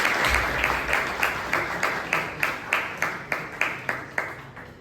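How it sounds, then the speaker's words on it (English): Toastmasters club meeting audience in Bangalore giving a round of applause, a roomful of clapping that settles into a rhythmic, evenly spaced beat with a strong pulse on each clap. "Please give a huge round of applause."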